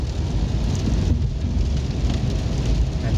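Steady heavy rain falling outdoors in winter, enough to melt the snow, a dense continuous hiss with low rumble throughout, no voices.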